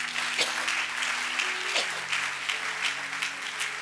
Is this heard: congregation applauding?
yes